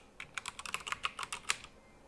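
Rapid typing on a computer keyboard, a quick run of about a dozen crisp key clicks with a slightly louder final tap, close and clear over a quiet background.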